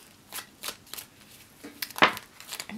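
A deck of tarot cards is shuffled, giving several quick, close riffling bursts with short pauses between them and one sharper snap of cards partway through.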